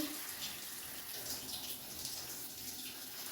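Bathing in cold water outdoors, with a steady, close wash of splashing and pouring water that runs unbroken throughout at an even loudness.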